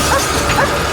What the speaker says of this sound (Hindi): सेज इस कार पर भौंक रही है।